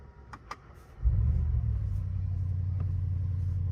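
After a couple of faint clicks, a 2025 Mercedes G63 V8 engine cranks and fires into a deep, rumbling idle that holds steady and strong.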